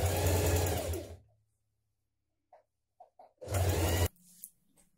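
A sewing machine stitches a folded dress hem in place, running in a loud steady burst, pausing with a few soft clicks, then running again in a second short burst.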